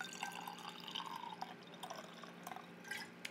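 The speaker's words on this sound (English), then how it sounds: "Do the ASMR pour." A drink poured into a glass close to the microphone in a quiet room, with soft trickling, small splashes and a few light clinks, faint and delicate with no talk.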